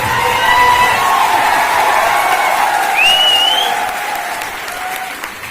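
Audience in Kanpur breaks into loud sustained applause with cheering and a rising whistle, a dense crowd wash that holds steady then eases slightly toward the end.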